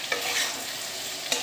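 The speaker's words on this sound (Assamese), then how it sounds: "এতিয়া প্ৰায় ভাজা হৈ গৈছে, মই পানী দিম ইয়াত অলপ দুবাৰমান পানী দি কেনে অলপ এনেকৈ ভাজিম আকৌ" Food frying and being stirred in a pan during home cooking, with a steady close sizzle and a few sharp scraping strokes of the spoon, no voices.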